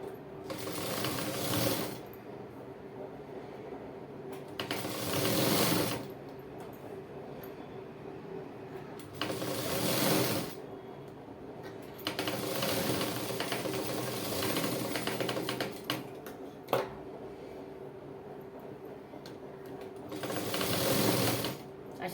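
Sewing machine stitching together the pieces of a katori blouse, running in repeated bursts of a few seconds each with quiet pauses between, fairly close and moderately loud, without speech over it.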